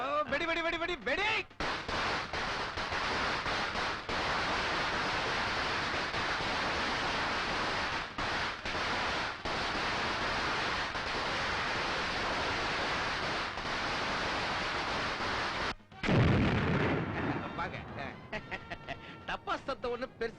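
A long string of firecrackers goes off in a dense, continuous crackle of loud bursts with brief gaps, then cuts out abruptly near the end.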